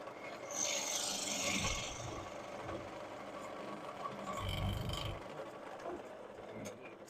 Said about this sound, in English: I'm going to be hitting some end grain on this piece, so we'll see how that works with the hollowing with a spindle gouge.